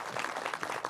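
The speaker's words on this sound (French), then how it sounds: "On peut l'applaudir, on peut l'applaudir." An audience claps in a brief, dense burst of applause that stays steady and moderately loud throughout.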